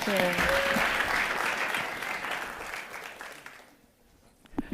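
Audience applause for the panelists at the 2025 Google.org Accelerator GenAI Demo Day, a full sustained round of clapping that slowly fades to near silence, with a voice briefly heard over the start.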